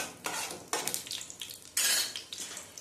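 Cloves and mace crackle and sizzle in hot oil for tempering, with sharp metallic scrapes and clinks of a spoon stirring in a pan at close range.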